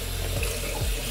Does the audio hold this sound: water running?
yes